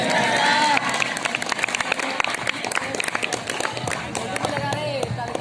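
Students and a crowd at a rural high school Independence Day program clap along in a steady rhythm to a patriotic Nagpuri song, with singing, chatter and shouts mixed into the dense, continuous noise.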